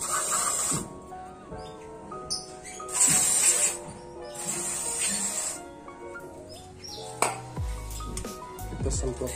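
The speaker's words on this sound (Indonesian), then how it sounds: "Kita semprotkan ke bagian ini cleaner itu." Brake cleaner sprayed onto the brake parts of a Toyota Avanza / Daihatsu Xenia during a brake pad change: several short, close hissing bursts with metallic clinks and clatter between them.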